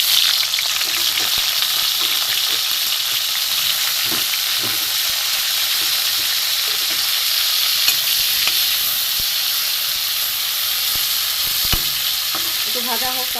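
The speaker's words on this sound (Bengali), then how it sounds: "এবার আমি উচ্ছেগুলো প্রথমে ভেজে নেব।" Bitter gourd frying in mustard oil in a wok on a gas stove gives a steady, loud sizzle and crackle throughout, with a few soft stirring clicks and no voices.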